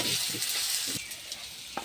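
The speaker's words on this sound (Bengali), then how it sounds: "আলুগুলো ভাজা হয়ে গেছে আমার" Potatoes frying in a pan with turmeric, chilli powder and salt for a Bengali bottle gourd leaf and poppy seed dish, giving a steady close sizzle with a few stirring scrapes.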